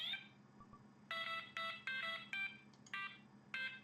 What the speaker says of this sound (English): Someone hacked the fire alarms to play the Super Mario Brothers theme.